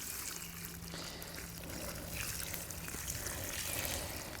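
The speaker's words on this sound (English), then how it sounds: "we will have to pour water on it to get it cool" Water poured over a campfire to put it out, a steady soft trickling and hissing wash heard quietly and continuously, with no voices.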